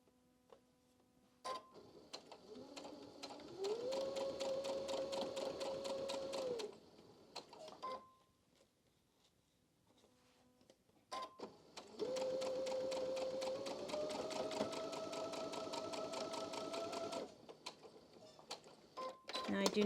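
Sewing machine stitching quilt pieces together, two steady whirring runs of several seconds each separated by a quiet pause, close and moderately loud, with a voice talking in the gaps.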